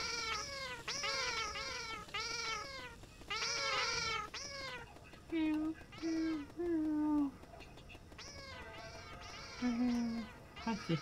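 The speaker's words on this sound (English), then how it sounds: "What with this kitten's meowing?" A kitten meows repeatedly indoors, loud and close, in short high-pitched cries that come in clusters, with brief pauses between them.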